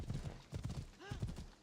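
Rhythmic hoofbeats of a horse galloping in the video game Assassin's Creed Odyssey, a quick drumming clip-clop with a short whinny partway through, set fairly quietly.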